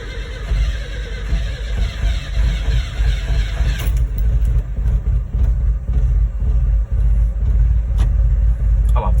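An air-bagged Datsun minitruck engine idling after a cold start, a loud, close, low rumbling drone with uneven throbbing pulses, a harsher whine briefly at the start and a few sharp clicks scattered through.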